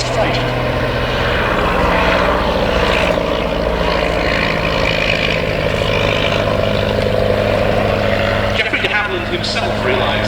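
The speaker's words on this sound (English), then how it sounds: "the DH-60 Moth, which went on to become the most popular light aircraft in the whole world" Vintage de Havilland DH-60 Moth light aircraft flying at an air show, a loud steady propeller engine drone filling the whole clip with a faint voice underneath.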